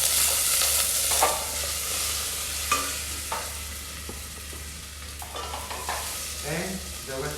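Cherry tomatoes sauté in light butter in a pan, giving a steady close sizzle and hiss broken by occasional scraping stirs and a few soft clinks.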